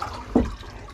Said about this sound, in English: you start pumping. As you do that, it's flushing, and it's flushing everything out.